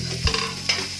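Garlic and onions sizzling and being stirred in a hot pan, with two quick scraping stirs over a low frying hiss.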